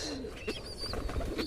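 A young pigeon squab gives soft, breathy coos and short calls up close, in a brief burst with no one speaking.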